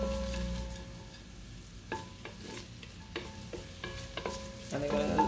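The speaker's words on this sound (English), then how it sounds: "So I'm adding in my onions here." Onions sautéing in a pan that is still heating up for vegan spinach rice give a steady low sizzle, broken by a few sharp scraping stirs and rising toward a fuller crackle at the end.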